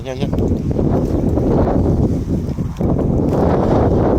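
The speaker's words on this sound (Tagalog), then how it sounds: "Medyo mahangin tayo mga boss" Strong outdoor wind buffets the microphone with a continuous low rumble, while people talk over it.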